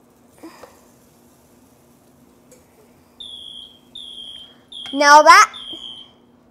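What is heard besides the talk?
waffle maker ready beep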